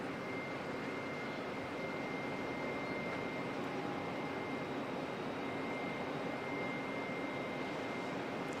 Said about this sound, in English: Qantas 154 back to Melbourne's making its way out.